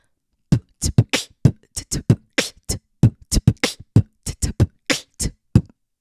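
A vocal beatbox groove mimics a drum kit, with crisp kick, hat and snare sounds in a steady, bouncy rhythm, close and unaccompanied.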